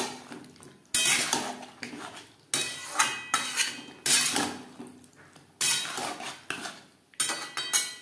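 Kohlrabi being stirred with spices in a cooking pan, a metal spoon scraping and clanking against the pan in repeated bursts of stirring with brief pauses between, close and fairly loud.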